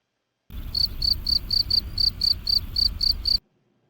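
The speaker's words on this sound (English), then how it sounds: "you hear those crickets?" Crickets chirp in a steady, evenly spaced series of about a dozen bright pulses, close and clear over a low background hum.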